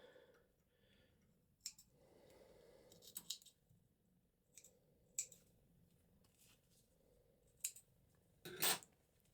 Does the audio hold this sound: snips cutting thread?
yes